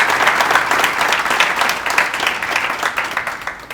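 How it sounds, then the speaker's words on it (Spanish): A studio audience at a Universidad de Panamá discussion program gives a loud round of applause for a professor, dense clapping sustained and close, gradually thinning toward the end. "Quiero pedirle un fuerte aplauso al profesor Jované."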